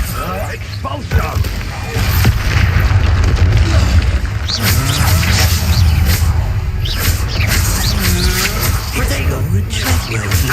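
An Expulso explosion spell in Hogwarts Legacy goes off as a loud, heavy blast with rumbling debris, amid continuous combat noise, clanks and shouted voices.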